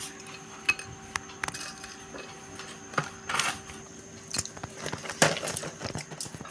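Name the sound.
arranging papdi crisps and gathiya on a plate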